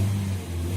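A Ford Figo 1.2 petrol engine with a K&N air filter hums steadily with a deep, even drone, briefly dipping and rising again as it revs, close by.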